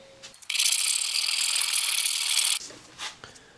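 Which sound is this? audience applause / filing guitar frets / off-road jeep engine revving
filing guitar frets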